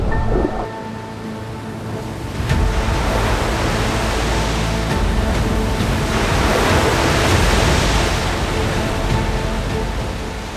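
Rough, heavy sea waves with strong currents in Cook Strait, New Zealand, a continuous loud roar of surf and wind-driven water that swells in intensity, with no voices.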